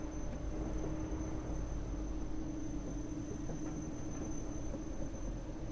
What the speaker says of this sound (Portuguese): Olha o trem passando lá, vocês viram, galera?